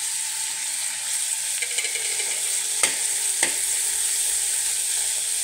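Green chillies drop into hot oil with already fried onions for a samosa filling, a steady bright sizzle running throughout with a couple of sharp clicks partway through and no voices.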